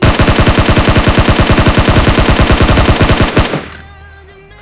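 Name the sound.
gunfire in a shooter video game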